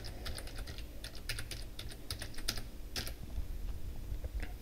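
Rapid, irregular clicks of keys being typed on a computer keyboard while entering a password, close and clear over a steady low hum, with no talking.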